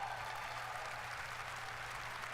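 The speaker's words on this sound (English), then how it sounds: "People are clapping, really?" An audience claps during a game presentation: a continuous wash of distant, faint applause from a large hall, heard steadily throughout.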